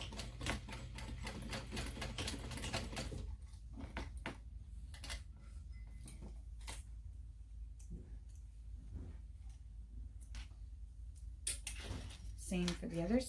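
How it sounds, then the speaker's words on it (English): A sewing machine topstitches at 1/8 inch beside a zipper tab on a small fabric backpack, running in a fast, even burst first, then falling to scattered clicks and handling noises before a brief final rattle. "And then I'm going to top stitch at 1/8 inch."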